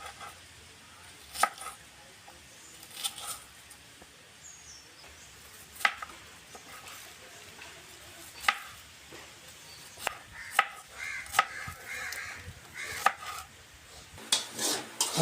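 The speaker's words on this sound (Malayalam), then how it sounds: "ആവശ്യത്തിനായ സബോള നമ്മൾ അരിയുവാണ്." Onions are sliced with a knife for homemade chicken biryani: irregular, light, crisp strikes on a cutting board, some in quick clusters and others spaced apart, fairly quiet against a hushed kitchen background.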